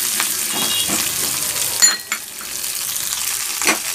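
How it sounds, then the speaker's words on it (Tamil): Shallots, garlic and dried red chillies fry in a pan with a steady sizzle while a spoon stirs them, giving a few sharp scrapes and clicks against the pan, close and alone. "வெங்காயத்தையும் போட்டு நல்லா மிக்ஸ் பண்ணிக்கோங்க."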